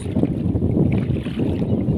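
Strong seaside wind buffets the microphone outdoors, a low, rumbling roar with gusty surges and a brief dip midway, continuous and close with no voices heard.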